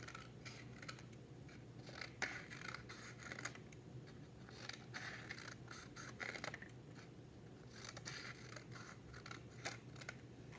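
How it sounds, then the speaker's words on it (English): Repeated snipping of scissors cutting paper, quiet and close, with irregular cuts spread across the clip and no talking. "Grab your scissors, pick them up the right way, and practice cutting on those lines."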